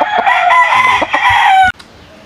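A gamefowl rooster crows once, loud and close, one full cock-a-doodle-doo of under two seconds that ends abruptly and leaves quiet behind.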